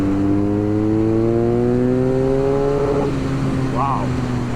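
A 2022 BMW R nineT twin-cylinder roadster accelerating hard, its engine note climbing steadily in pitch through the revs and then dropping with a gear change, loud and close under wind noise.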